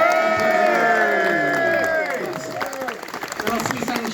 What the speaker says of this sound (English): So come on, let's have a big cheer.